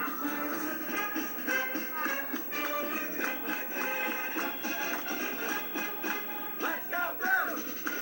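Massey fans cheer steadily in the stands at halftime of a 1988 high school football conference final, a dense, continuous crowd roar with scattered shouts throughout.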